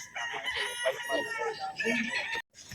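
A Sweater Boston Gilmore three-way cross stag rooster crows loudly and close, a full drawn-out call that cuts off abruptly near the end.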